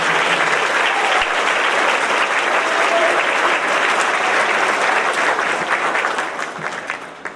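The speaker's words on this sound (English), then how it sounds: "A round of applause for the PTC Highest" An audience applauds at a middle school awards ceremony, dense sustained clapping from a large crowd filling the room, steady and loud before tapering off near the end.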